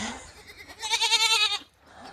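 Several goats bleat together inside a farm barn, a loud wavering chorus of calls lasting about a second, with quieter barn noise before and after.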